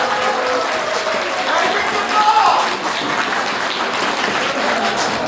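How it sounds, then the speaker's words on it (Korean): A crowd of wedding guests applauds continuously for the bride and groom at a wedding ceremony, dense clapping with the host's voice faintly audible underneath. "신랑 신부에게 큰 박수로 축복의 박수를 보내주시기 바랍니다"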